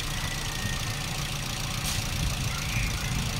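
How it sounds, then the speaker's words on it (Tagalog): A Toyota Vios with a 2NZ engine idles roughly, giving a steady low, uneven rumble with faint knocking texture, close and continuous throughout. "So yun po ang ating titingnan dito sa mga ganitong sobrang rough idle or namamatay ang inyong makina."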